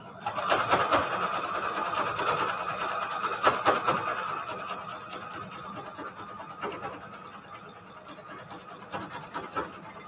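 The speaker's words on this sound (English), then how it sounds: "I just did a little line of stitching in between where the two lines of patchwork meet" A sewing machine runs steadily, stitching a short line along the seam where two strips of patchwork cut from washed bed sheets meet, a continuous mid-pitched mechanical whir with a few brief stops and restarts.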